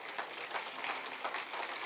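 A church congregation applauds during a sermon, a dense, steady patter of many hands clapping at moderate volume, with no voices over it.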